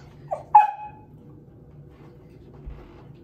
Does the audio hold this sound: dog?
yes